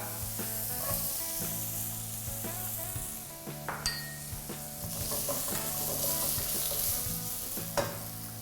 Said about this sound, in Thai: ใส่เหล้าจีน หน่อไม้จีนครับ